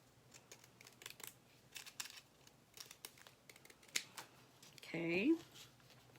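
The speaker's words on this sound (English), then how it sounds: "I take my pinking shears and I just turn these into a circle" Pinking shears snip through thin metal sheet to cut a circle, a series of quiet, crisp clicks spaced about every half second, followed by a louder crunching cut near the end, with a voice speaking nearby.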